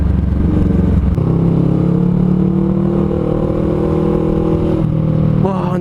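A Honda CMX500 Rebel motorcycle on a test ride gives a steady engine drone with rumbling tones that rise in pitch, heard close and continuous under wind noise.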